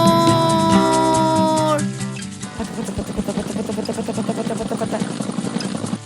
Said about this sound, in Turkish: Helikopter geliyor.